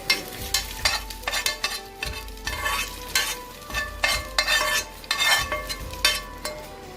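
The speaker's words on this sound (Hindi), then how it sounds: "लहसुन को मैं थोड़ा सा ब्राउन कर लूँगा, ज़्यादा नहीं करना, थोड़ा सा ब्राउन कर लेना है।" Garlic sizzles and crackles in hot oil up close as it browns for chili garlic sauce, with repeated scraping and clinking of a spoon stirring the pan in a steady rhythm.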